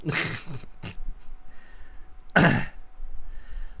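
A person coughs and clears their throat in a few harsh bursts, with one louder, rasping cough near the middle and quiet breathing between.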